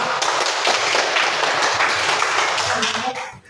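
Audience clapping after classroom presentations, a fairly close, continuous patter of many hands that thins out and fades near the end, with some voices beneath.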